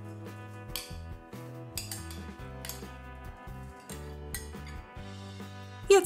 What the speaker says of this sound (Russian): Пропускаем их через мясорубку. Перекладываем в дуршлаг.